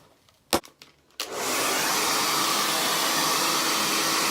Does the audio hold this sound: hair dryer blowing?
yes